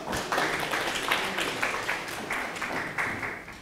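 An audience at a Korean law firm seminar session claps to welcome a speaker to the stage. The applause is moderate and continuous, a room-wide patter that tapers slightly near the end.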